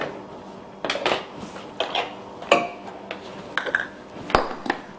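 Utensil clinking against a bowl while mixing sugar into strawberry freeze ingredients, a series of irregular light taps and scrapes, close and moderately loud.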